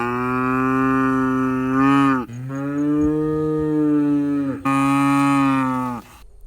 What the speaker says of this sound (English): I've never had cows, so I don't know what they're supposed to sound like.